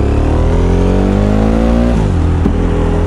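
A KTM motorcycle engine revs loud and close, its pitch climbing and then dropping off sharply before a quick blip.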